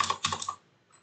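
A computer keyboard typing out a database delete query, heard as a short, close burst of rapid clicking keystrokes that stops abruptly, followed by near silence.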